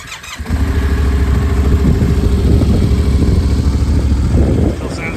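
A Yamaha Ténéré 700 motorcycle with 128,000 kilometres on it and an HP Corsa exhaust, its engine running steadily and loud up close with a deep throbbing tone, revs easing slightly near the end.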